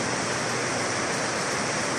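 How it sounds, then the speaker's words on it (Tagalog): Heavy rain pours down steadily in the mountains at night, a dense, loud, unbroken hiss filling the space with no other sounds. "Ang lakas na ng ulan."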